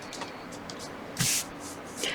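A short burst of fabric spray hisses once onto a pieced quilt block, a brief close pump-spray puff rising out of soft room noise and rustling, followed by faint handling sounds.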